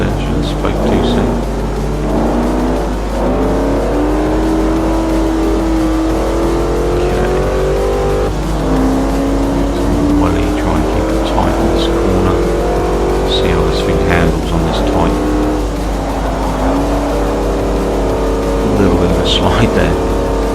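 A race car engine revs hard and continuously in Forza Motorsport 4, pitch climbing through gears with repeated drops at each shift, loud and close throughout, with someone talking over it.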